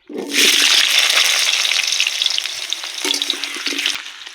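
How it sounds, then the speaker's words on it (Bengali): Cut, washed potatoes dropped into hot oil, bursting into a loud, close hiss that stays strong and slowly settles, with a brief clatter near the start of the frying. "তো বন্ধুরা, তেল গরম হয়ে গেছে, এই যে আমি আলুগুলো কেটে ধুয়ে রেডি করে রেখেছিলাম, আমি এই আলুগুলো দিয়ে দিচ্ছি।"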